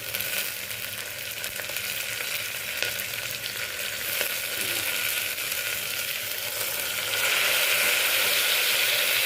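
Chopped tomatoes go into onions frying in a pan, producing a continuous close sizzle with ratchety scraping stirs, the frying growing slightly louder and brighter near the end.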